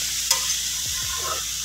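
A dish frying in a pan on a low flame, with a soft continuous sizzle and a couple of brief scraping stirs, close and alone.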